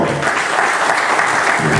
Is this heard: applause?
yes